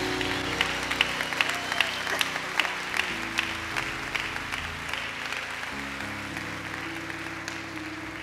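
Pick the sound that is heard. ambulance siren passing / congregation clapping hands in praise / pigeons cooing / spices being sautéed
congregation clapping hands in praise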